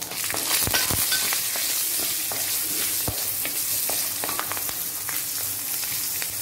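Green chillies fry in a pan of hot oil with chana dal and asafoetida for a coconut rice tempering, giving a steady close sizzle broken by scraping stirs and small crackles, with no voices.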